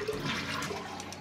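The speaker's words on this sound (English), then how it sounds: "Then you just flush to empty the tank" A household toilet flushes to empty its tank after the water supply has been shut off, with a steady close rush of draining water filling the whole moment.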